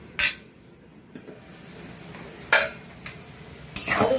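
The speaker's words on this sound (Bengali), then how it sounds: "আলু ভাজা হয়ে গেছে, যেহেতু আলুতে লবণ দেওয়া ছিল সেই জন্য আলুটা খুব তাড়াতাড়ি ভাজা হয়ে গেল।" Potatoes frying in oil in a pan, with a steady low sizzle broken by three sharp scraping stirs of a utensil against the pan.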